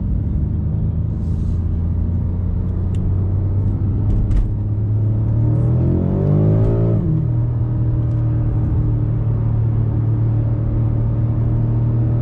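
Nearby car engine revs up in a rising, climbing roar, then drops back to a steady low idle rumble, heard from inside or beside a BMW M5 Competition, with no talk.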